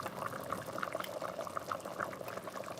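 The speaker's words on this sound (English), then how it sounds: "now that has been boiling long enough" Chicken soup made with condensed cream of chicken boils in a pot on the stove, a steady bubbling and gurgling with small pops throughout, close and moderately loud.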